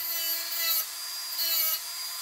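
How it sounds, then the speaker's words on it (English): Grinding steel off behind the tooth of a homemade hole cutter, a steady high-pitched abrasive hiss in two sustained passes with a brief dip between them, fairly loud and close with no talk. "what I'm going to do is grind away a little bit of the material that's behind the tooth"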